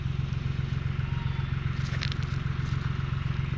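A tractor engine runs with a steady low, throbbing rumble while raking hay on a farm, close and continuous with faint clatter above it.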